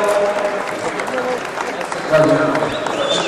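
Audience applause at a French diploma presentation ceremony, steady crowd clapping filling the room throughout with voices mixed in.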